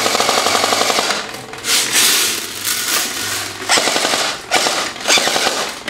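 A toy gun fires rapidly and up close in quick rattling bursts, several separate volleys separated by short pauses, with no talking.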